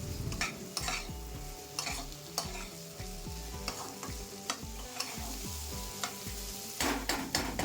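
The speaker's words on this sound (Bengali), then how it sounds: "আদা বাটা চাল ডালের সাথে খুব ভালো করে মিশিয়ে নিয়ে কষিয়ে নেবো" Rice and lentils with ginger paste are sautéed in a pan. Rhythmic, repeated scraping strokes of a spoon sound over a steady frying sizzle, close and clear, with no voices.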